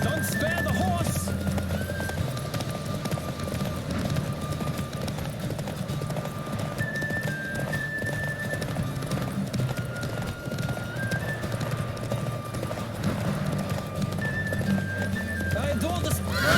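A horse gallops in a race in The Witcher 3, with steady, rapid hoofbeats throughout and several whinnies, low in level under music and spoken lines.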